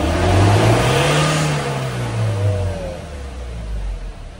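A Ford Everest 2.2 engine revs up toward 4,000 RPM, its steady rising drone swelling early then holding a loud, sustained whine close by with no talking.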